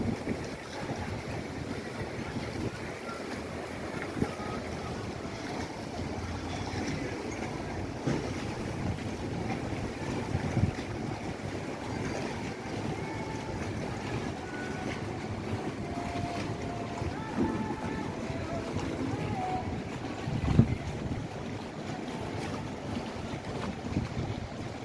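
Motor water taxis move along the Grand Canal in Venice, heard from above as a steady low engine rumble mixed with lapping water and wind noise, distant and continuous.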